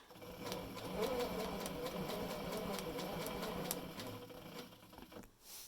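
A sewing machine quilting a curved crosshatch with rulers, stitching along a seam, runs in a continuous fast needle chatter with regular ticking clicks and stops abruptly near the end.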